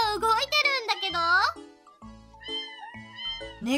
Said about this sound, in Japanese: 猫を押すと鳴くぜ。